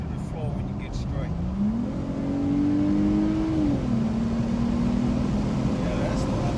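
Dodge Challenger SXT fitted with an aFe cold air intake and Hellcat scoop, accelerating hard at full throttle; a steady, loud engine tone climbs in pitch and holds under road noise.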